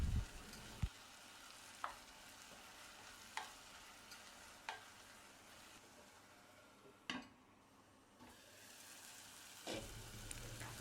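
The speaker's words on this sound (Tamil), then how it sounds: "தக்காளி நல்லா வதங்குற வரைக்கும் மூடி வதங்க விடுங்க" Tomatoes with salt and chili powder sauté in a covered pan: a steady low sizzle and bubbling runs throughout, broken every second or so by a sharp utensil clink against the pan.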